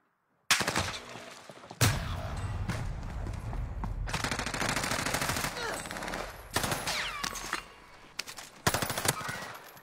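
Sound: gunfire aimed at the player in a video game

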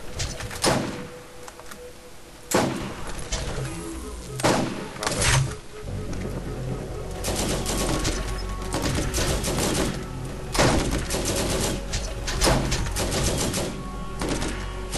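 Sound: gunfire in the video game Borderlands

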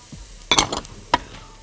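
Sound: carrots and onions frying in butter and oil

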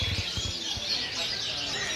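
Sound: canaries chirping at bird market

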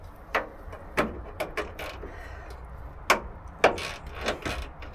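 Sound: ratchet screwdriver slipping on little screws

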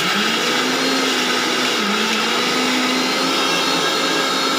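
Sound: mixer grinder blending a paste

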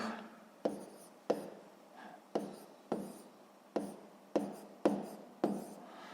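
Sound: writing numbers by hand

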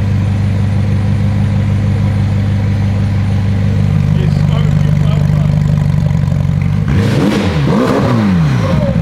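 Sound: wrecked McLaren 720S engine revving badly

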